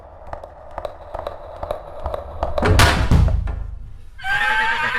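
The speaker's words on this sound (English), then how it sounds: "So I settled with the horse neighing, which I found here, and that's how the final sound effect sounds." A horse neighs, mixed with a scream to form a built-up Foley sound effect, preceded by a run of sharp taps and thuds and a loud rushing burst, with the whinny entering near the end.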